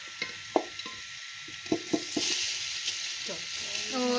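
Rice and sugar hitting hot ghee for zarda sweet rice, a steady close sizzle with scattered crackles and sharper pops as the grains are stirred in, growing fuller toward the end.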